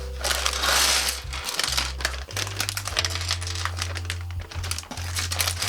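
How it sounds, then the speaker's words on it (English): Plastic parts bags from a Lego Porsche 911 Targa/Turbo kit are torn open and handled, with close crinkling, rustling and small rattles of bricks over a steady low hum. "get these bags open, sort them out"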